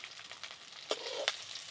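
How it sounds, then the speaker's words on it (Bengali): Hilsa fish heads frying in oil: a faint, brief crackle and hiss of oil with a couple of sharper pops near the end, quiet and close. "ইলিশ মাছের মাথাগুলো ভাজা হয়ে গেল"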